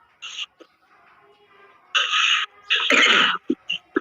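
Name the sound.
man coughing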